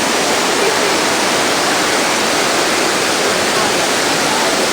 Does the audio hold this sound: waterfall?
yes